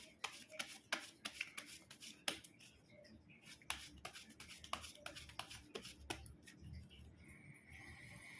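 Tarot cards are shuffled close up in a quiet room, with a run of sharp, irregular flicks and slaps of card against card over several seconds, faint overall.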